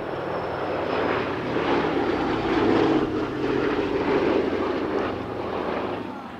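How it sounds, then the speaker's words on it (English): B-17G Flying Fortress four-engine piston bomber flying at an RAF Cosford air show, a loud steady propeller drone that swells and fades slightly as it passes, with no talk. "B-17G Flying Fortress Sally B is also a Cosford regular, Europe's only flying B-17"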